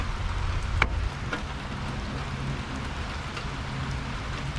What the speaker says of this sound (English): It's raining. It's been raining for 4 days.